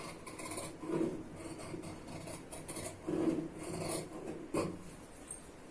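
Scissors cutting blouse front fabric, a close, soft series of rasping snips and rubbing strokes with a few louder cuts, quiet overall.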